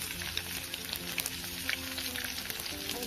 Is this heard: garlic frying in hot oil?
yes